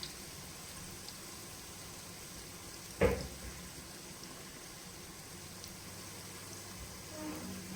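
Finely chopped onions frying and being stirred in oil for chicken biryani, a faint, steady sizzle with one sharp knock of a spoon against the pan and a softer scrape near the end.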